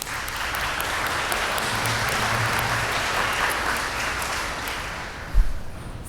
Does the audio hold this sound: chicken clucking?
no